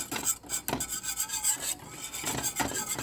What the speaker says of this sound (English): Now you see the whisk breaks up the clumps of flour.